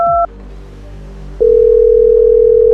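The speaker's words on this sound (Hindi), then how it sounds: "बेल जाती है" A telephone in a phone booth, after a toll-free number is dialed, gives a short two-tone beep, a moment of quiet line hiss, then a loud, steady, unbroken line tone.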